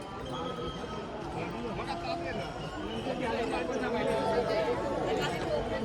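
A dense crowd murmurs in the darshan queue on Ashadhi Ekadashi, many voices overlapping in a close, steady babble that swells slightly toward the end.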